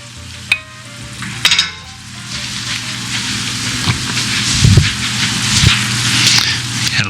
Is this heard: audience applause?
no